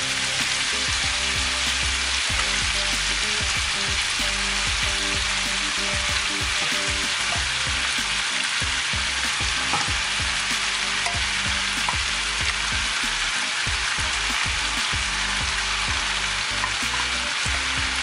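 Rice sizzles and crackles steadily in a hot pan for vegetable rice, with repeated scraping stir strokes throughout, close and continuous, no voices.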